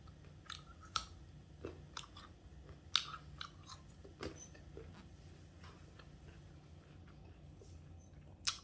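Close chewing of water chestnut (singhara) in a quiet room, a few soft crunchy bites and clicks scattered across the stretch with no talking.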